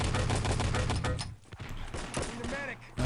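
Rapid bursts of automatic gunfire from the game Enemy Territory during a 6v6 tournament match, dense and loud at first, then a short lull before more shots return near the end.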